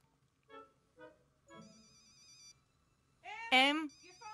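A mobile phone rings indoors with a few short electronic tones rising into a longer sustained ringtone, fairly quiet, with voices and other sounds nearby.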